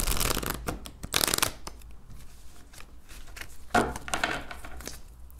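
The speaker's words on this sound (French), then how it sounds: "je vais tirer tout de suite les cartes de l'améthyste love" Oracle cards from an amethyst love deck being shuffled and drawn: quick papery riffles and flicks come in bursts, with a sharp snap of a card near the middle, all close and without voices.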